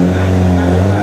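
Classic 1960s Lotus Formula 1 car with a V8 engine, intake trumpets on top and tubular exhaust manifolds, droning close and loud at a steady high idle, with a deep even throb throughout at a track testing day.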